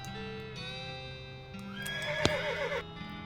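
A horse neighs in the West of Loathing video game, a clear whinny that rises into a wavering peak, preceded by steady tonal hum and a brief sharp knock near the middle.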